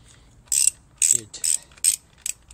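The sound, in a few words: ratchet loosening cylinder head bolts on Honda CRF450R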